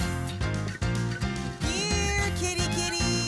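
Cartoon kittens from Clifford the Big Red Dog meow in short high calls over bouncy background music, several mews close together with no talk.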